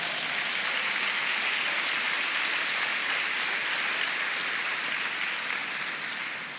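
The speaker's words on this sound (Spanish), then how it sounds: "Denle un aplauso al Señor" A church congregation breaks into sustained, dense applause, many hands clapping loudly and evenly throughout with no pause.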